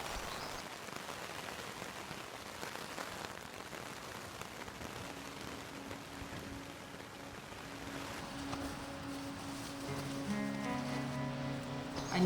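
Rain falls at a wild coastal camp as a soft, steady patter on surfaces, fairly faint, with a low hum entering in the latter half.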